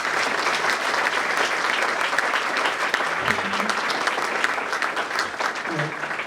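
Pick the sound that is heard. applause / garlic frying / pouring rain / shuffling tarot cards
applause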